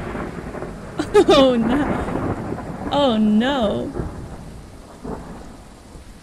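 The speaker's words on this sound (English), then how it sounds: "I hate thunder. I don't like thunder." Thunder and steady rain roll through the ghost-hunting horror game Phasmophobia, a continuous low rumble filling the whole clip at moderate loudness while a voice exclaims twice over it.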